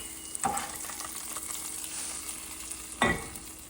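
A tempering (chhok) sizzles as it hits boiled vegetables in a pan, with two sharp spoon clinks against the pot amid a continuous quiet frying hiss.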